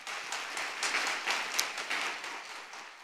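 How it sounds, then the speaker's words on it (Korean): Congregation applause in a church at a prayer retreat service, a sustained wash of many hands clapping with no voices over it, holding steady at moderate volume throughout. "하나님께 영광의 박수 올려드립니다"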